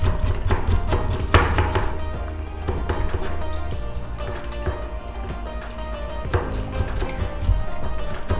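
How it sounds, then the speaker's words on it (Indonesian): Spring onions being chopped with a knife on a cutting board, a fast, steady run of crisp close knocks that continues throughout with only brief changes in pace. "Potong-potong daun bawang secukupnya."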